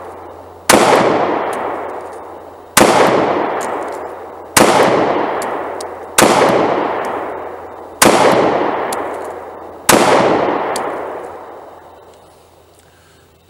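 Six loud, sharp Springfield XDS 9mm pistol shots fired at a target, spaced about two seconds apart, each followed by a long ringing outdoor echo that fades before the next.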